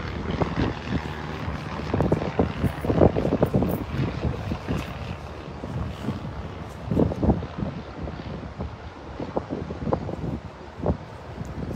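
Airplanes passing overhead, a loud rumbling drone that swells and fades repeatedly against gusty wind buffeting the microphone outdoors, with no talking.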